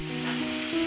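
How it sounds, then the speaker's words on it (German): Bacon frying in clarified butter in a pan, a brief steady sizzle and crackle heard up close with no talking. "Und dafür geben wir Butterschmalz in die Pfanne und braten dann dort den Speck an."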